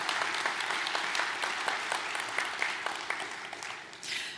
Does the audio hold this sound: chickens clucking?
no